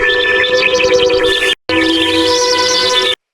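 An atmosphere sample from an ethereal breakcore track, a bright shimmering textured layer with steady tonal lines that cuts out briefly mid-way, then resumes before stopping abruptly.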